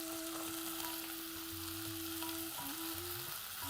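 Finely chopped sweet potato pieces sizzle and fry in a pan while being stirred and sautéed, a steady crackling hiss that runs continuously with faint music behind it.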